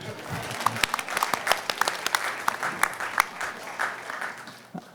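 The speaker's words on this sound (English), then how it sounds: "Now you may all applaud again." Brisk applause from attendees at a delegate assembly meeting, loud and close with distinct sharp claps throughout, tapering off at the close.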